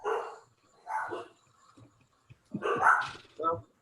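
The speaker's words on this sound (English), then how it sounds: "Shut up, dogs." Several dogs bark in short bursts near the microphone during an online meeting, with quiet gaps between the barks.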